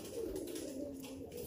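Indian pigeons, a large red Chinese hen and a big cock bird, coo in low, steady, continuous tones with no talk over them.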